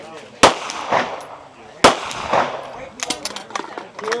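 Gunshots on a shooting competition stage: two sharp, loud reports a little over a second apart, then a quick burst of smaller cracks near the end, with reverberant tails between.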